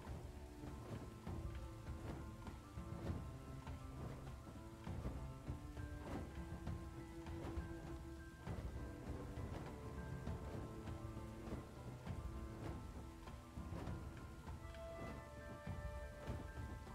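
Heavy rain pours steadily with rolling thunder in a video game cinematic, a dense continuous downpour with low rumbles throughout, faint and unbroken.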